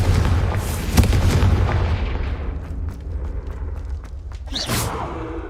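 A fire spell explodes in the Hogwarts Legacy video game with a loud, booming blast and a deep rumble that slowly fades, followed by a second, sharper burst near the end.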